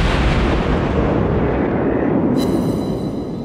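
Heavy naval guns from the USS St Louis, a tier 3 warship in World of Warships, boom in a loud, deep rumbling blast that rolls on and slowly fades, with a faint metallic ring near the end.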